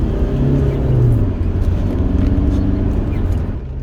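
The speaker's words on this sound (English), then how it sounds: "The familiar diesel rattle sounds like you're driving a tractor." A mk.2 Rover 45 diesel rattles and drones from inside the cabin while driving, a steady low engine note that swells slightly with speed, with no talk.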